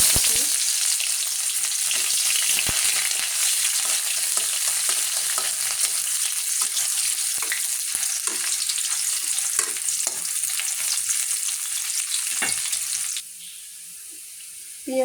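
Onions fry in oil in a pan until browned, a steady close crackling sizzle with light stirring scrapes throughout. It drops to a quieter hiss near the end.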